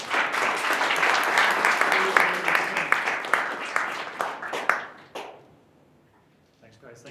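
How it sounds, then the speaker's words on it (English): Audience applause at the close of a tech talk on building containerised applications, a dense steady clatter of many hands for about five seconds before it tapers off into quiet, with faint talk returning at the end. "One more round of applause"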